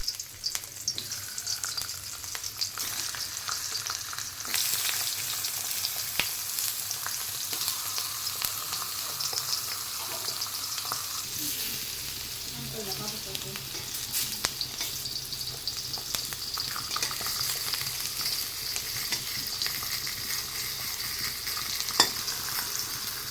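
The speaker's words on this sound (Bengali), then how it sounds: "একটু হালকাভাবে এটাকে ভাজলাম" Spiny gourd (kakrol) pieces seasoned with salt and turmeric frying in oil in a pan, a steady continuous sizzle with occasional stirring scrapes, close and fairly loud throughout.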